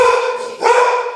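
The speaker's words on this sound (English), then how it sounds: "dog's a bit upset." A dog barks close and loud, two sharp harmonic barks in quick succession with no talk over them.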